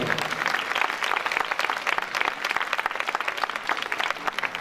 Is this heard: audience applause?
yes